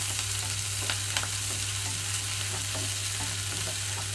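Chopped onions, green chillies and curry leaves fry in hot oil in a pan for a snake gourd fry, a dense continuous sizzle with soft stirring scrapes and clinks throughout, close and steady, and no one talks.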